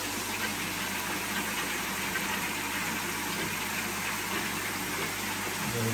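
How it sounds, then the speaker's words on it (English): A koi pond pump running steadily after being switched back on, a loud unbroken broadband rush and hum with a low motor drone that holds evenly throughout, with no speech. "Let's get the pump back on."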